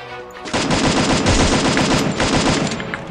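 Video game gunfire erupts after a brief quiet lead-in, then hammers on as loud, rapid automatic bursts that continue to the end.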